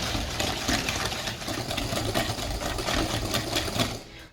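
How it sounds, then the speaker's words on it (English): A whisk beats butter with castor and brown sugar in a bowl, making a fast, steady, close whirring clatter that continues throughout. "we're going to take a whisk and whisk it well till the sugar and butter are combined"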